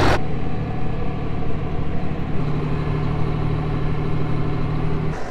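A Cummins diesel truck engine runs steadily at a farm during harvest, a close, continuous low rumble that holds an even level throughout with no voices.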